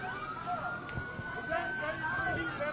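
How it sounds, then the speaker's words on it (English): Emergency vehicle sirens wail steadily at a distance during a street protest in Minneapolis, a sustained rising-and-falling tone underneath continuous crowd noise and talking. "Hearing sirens not too far from where we're standing, but I do not see where they're coming from."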